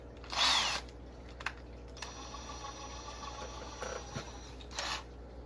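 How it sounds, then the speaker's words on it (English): Brief bursts of a power drill whirring as it bores into wood, short and intermittent with pauses between them, fairly quiet with faint background noise and no talking. "drill into this wood and find a drill bit that seems like the appropriate size"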